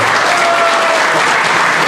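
Guests at Aline's 50th birthday celebration clap for her as she is introduced, a dense, steady burst of applause from a crowd that fills the room.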